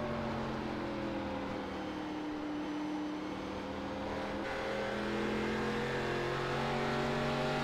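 An ARCA stock car engine in the iRacing sim at New Hampshire holds a steady loud drone with a rising tonal whine, pitch shifting slightly midway as the car runs alone.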